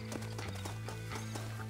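Horse hooves clip-clop in a video game, a steady run of hoofbeats close by over a constant droning game soundtrack with no talk.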